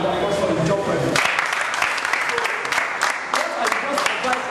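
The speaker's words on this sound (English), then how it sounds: "I think it's a round of applause for the job for him" An audience at a live MMM presentation in Ijeshatedo, Surulere, breaks into steady applause just after a short stretch of talk, and the loud clapping holds to the end.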